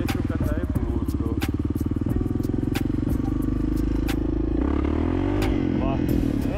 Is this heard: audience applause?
no